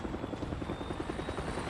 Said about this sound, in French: j'entends déjà des hélicoptères.